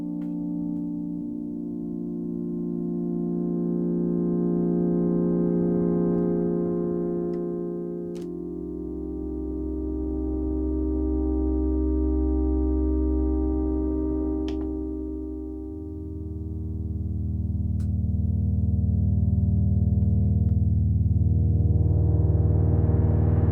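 Sustained Novation Peak synthesizer pad chords hold steady and shift through several changes, smooth and warm with a deep bass layer, no reverb, no voices.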